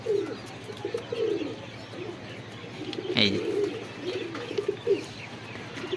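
Pigeons cooing and fluttering outdoors, soft repeated calls with a brief louder burst of wingbeats midway, steady background hum.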